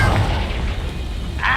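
Explosive Confringo spell cast in the video game Hogwarts Legacy, a dense booming burst with a rumbling low end lasting about a second and a half, then a brighter crackling flare near the end.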